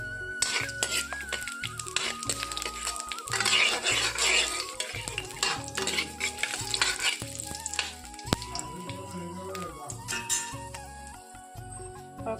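Panch phoron spices fry and crackle in hot oil in a wok, stirred with a utensil that scrapes and clinks against the metal, making a continuous sizzle punctuated by close, irregular scraping knocks.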